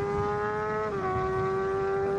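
A vehicle, seemingly an Inmotion V11 electric unicycle ridden near a back gate, gives a steady loud motor whine whose pitch dips at about one second and then holds while the rider pops a wheelie. No one speaks.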